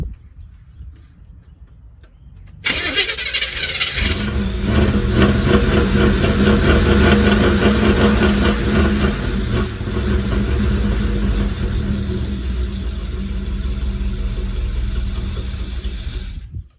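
A Camaro V8 with a bad accelerator pump catches and runs rough after a quiet start, a loud, uneven, sputtering idle that sounds starved for fuel and continues steadily for the rest of the stretch.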